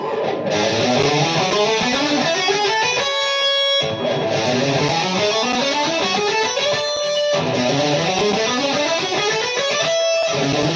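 An instrument plays rapid ascending runs through the major scale starting from its sixth mode, repeated three times with brief pauses between, each run climbing in clear, loud notes.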